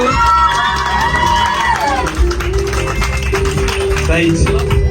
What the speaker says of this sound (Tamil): எல்லாரும் கை தட்டுங்க